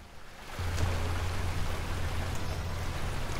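Flowing water in the video game Lost Ruins, a soft, steady rushing wash that starts after a short pause and continues evenly, fairly quiet.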